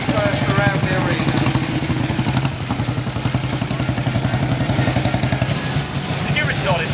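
Vintage motorbikes circling a steam show arena, their engines putting out a steady chugging drone at moderate distance that eases slightly midway, with people talking over the engines.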